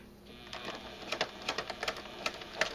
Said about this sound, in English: You want to sew all the way around the edge, about 1/4 of an inch or so in from the black Sharpie line.